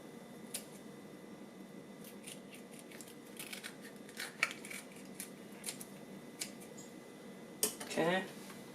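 A knife slices into a fresh California herring over a container, giving faint, soft scraping and snipping sounds in short bursts, with a couple of sharper clicks and handling noises near the end, all quiet and close.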